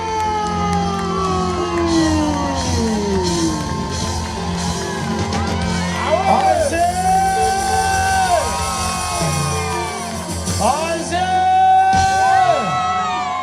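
A live concert crowd at a Malagasy music festival in La Réunion roars with sustained cheering, whoops and yells for a singer taking the stage, a dense, loud wall of voices with rising shouts throughout.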